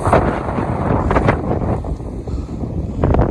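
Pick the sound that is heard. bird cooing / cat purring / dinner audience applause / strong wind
strong wind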